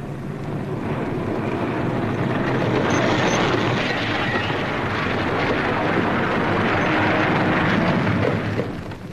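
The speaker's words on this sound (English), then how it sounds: "A converted Mitchell crash lands at Hancheng." Converted B-25 Mitchell bomber used as a wartime transport, crash landing at Hancheng airfield: a loud, continuous roar of engine and rushing noise fills the whole stretch without a break, and no voices are heard.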